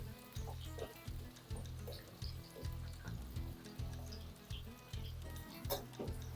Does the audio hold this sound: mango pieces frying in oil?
yes